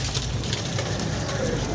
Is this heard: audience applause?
no